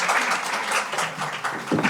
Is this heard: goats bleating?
no